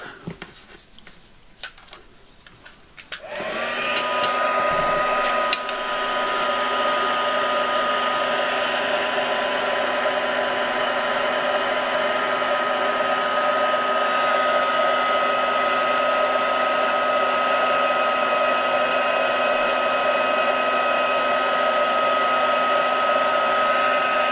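A handheld heat tool warms craft materials for a Christmas tag book. A few seconds of small handling noises come first, then the tool switches on with a loud, steady, close blowing whir that continues to the end.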